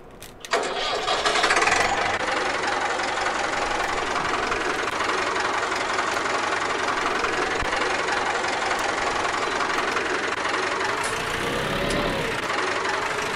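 A tractor with no cab, used for tedding hay on a farm, cranks and fires up, then settles into a loud, steady, rough idle heard close and continuous for the whole stretch.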